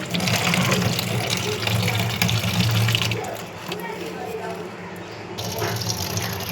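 Cut taro peels being washed by hand in water, with loud splashing and swishing that eases into gentler sloshing, while someone speaks over it.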